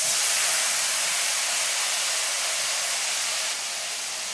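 Spice paste for a bitter gourd dish sizzles in hot oil, a dense, steady hiss that fades slightly over a few seconds, with no talk.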